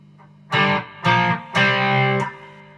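An electric guitar on its bridge pickup with distortion plays three loud strummed chords in a row, the last held longest before it stops. Bright and saturated, close up, with no speech.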